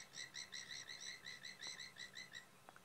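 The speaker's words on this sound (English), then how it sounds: "Looks like she's listening to those frogs that are making all that noise." Frogs call in a rapid run of short, high chirping croaks repeated in a steady rhythm, moderately distant and faint.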